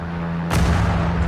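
In the Sudden Strike 4 strategy game, a sharp artillery blast cracks out midway over a steady low battlefield drone, followed by a rumbling tail of gunfire.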